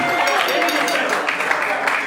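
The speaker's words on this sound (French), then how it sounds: "Merci d'applaudir encore très fort, mesdames et messieurs." Wedding guests at a celebration in Gabon applauding loudly and steadily as a big crowd, the clapping sustained throughout and mixed with crowd voices.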